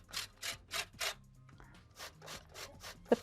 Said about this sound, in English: I'm now going to zest some lemon